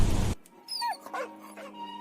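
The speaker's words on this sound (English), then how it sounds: "This is a dog." Dog vocalizing after a brief burst of noise: a few short yips and whimpering cries, close and fairly loud, with no speech.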